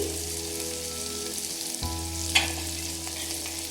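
Ground chilli, coriander and pepper powders fry in a pan for rasam, a continuous close sizzle over a low steady hum, with a brief scrape as the spices are stirred.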